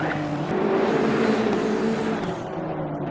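Racing cars in a sim racing game, including a Honda NSX and BMW M6 GT cars, roar past at steady full throttle, engines droning loud and continuous with layered tones from several cars close together, no talking.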